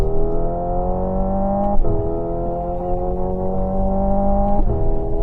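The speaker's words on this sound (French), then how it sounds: "Ferrari a fait différemment en utilisant les sifflements et bourdonnements de ces 4 moteurs pour vous captiver" Four electric motors of a Ferrari Luce give off a steady, loud layered whine and hum with sliding tonal pitches, held continuously through the whole stretch with small pitch shifts near the start and end.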